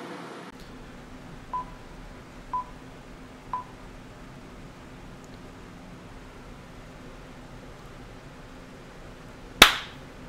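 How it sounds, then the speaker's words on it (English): A single sharp hand clap near the end, used to sync audio, follows three faint tone-like beeps in a quiet room. "I have to clap to resync the audio"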